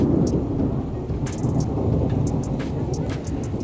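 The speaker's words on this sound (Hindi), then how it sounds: "और आज तो बहुत दिनों बाद बारिश भी लगी।" Steady, loud rain pours outside a hill-country house in Uttarakhand, with a dull low rumble of thunder beneath the constant hiss.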